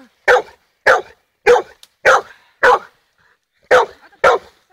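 Golden retrievers barking while hunting a raccoon dog, a series of about eight loud, sharp barks close to the microphone in an uneven rhythm, with short pauses between them and no talking.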